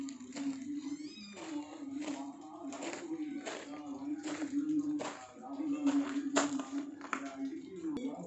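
Several cats meow and caterwaul in repeated bursts at a home feeding time, fairly close, over a steady low hum, with people talking now and then between the calls.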